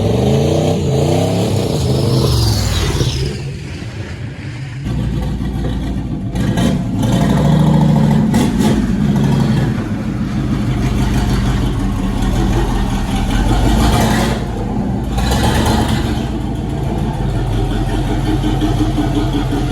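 Loud V8 turbo car engine with a 4-speed gearbox, revving and pulling hard under throttle, a sustained roar that climbs and swells with rising pitch, eases briefly, then builds again, continuous throughout with no talk.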